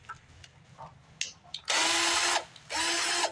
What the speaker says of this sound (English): Don't ever buy one of these cheap Walmart hyper tough drills.